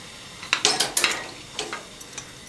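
A pressure cooker lid is shut while cooking daliya khichdi. A quick series of light metallic clinks and clatters comes up close, then a couple of fainter taps follow.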